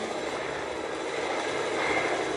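A smoking helicopter in the Fortnite video game drones with a dense, steady, close engine and rotor roar that fills the whole stretch.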